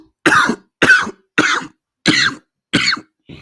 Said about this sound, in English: coughing y'all ears off